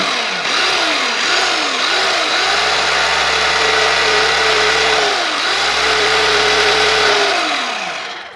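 A repaired Arnica Quick Mix food chopper motor, with new gears that have just been greased, whirs loud and close. It rises and dips in short revs, then holds a steady high whine and winds down at the end, with no talk.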